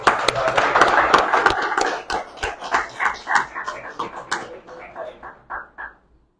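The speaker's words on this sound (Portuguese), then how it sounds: "Mas acho que merece uma salva de palmas, não é, pessoal?" An audience at an agricultural talk on disposing of empty pesticide containers bursts into dense applause that thins into scattered individual claps and fades out within a few seconds.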